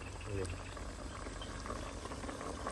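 Water with bamboo shoots boils in a pot outdoors beside a rice field, giving a steady, close, roiling bubbling hiss that runs without a break, with faint voices underneath.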